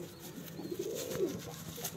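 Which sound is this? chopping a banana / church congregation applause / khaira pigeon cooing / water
khaira pigeon cooing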